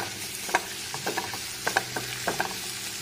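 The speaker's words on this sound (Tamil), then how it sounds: "இதை வந்து லைட்டாக வணக்கி விட்டுக்கலாம்." Spices and aromatics for mango butter masala lightly sautéed in a pan, with a soft steady sizzle and scattered scraping stirs, close and fairly quiet, with no voices.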